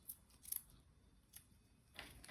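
Scissors snip through paper while trimming puzzle pieces for junk journal ephemera, giving a few quiet, separate cuts, a brief double snip early and another crisp cut near the end, with no voices.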